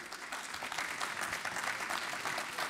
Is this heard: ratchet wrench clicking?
no